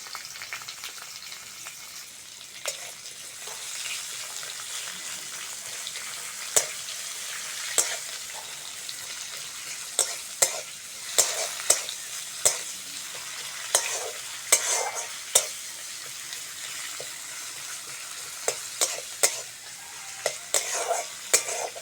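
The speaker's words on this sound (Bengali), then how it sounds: "পেঁয়াজটা হালকা করে ভেজে নিয়েছি" Chopped onion sizzles steadily in a pan with bay leaf and whole cumin for a soybean, papaya and potato curry, while a spoon scrapes and stirs in frequent sharp clacks, growing busier toward the end; close and without speech.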